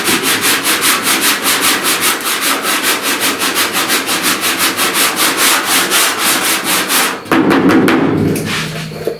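Sanding epoxy primer and body filler on a dented truck cab corner, a steady rapid back-and-forth rubbing rasp close by, shifting briefly to a rougher, heavier stroke near the end.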